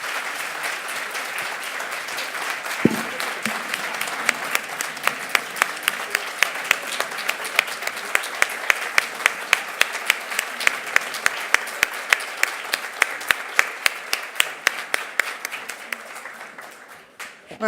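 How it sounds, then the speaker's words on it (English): Audience applause at a community changemaker awards ceremony, sustained clapping with distinct individual claps standing out, building and holding steady before fading near the end. "Let's have a round of applause for Leila"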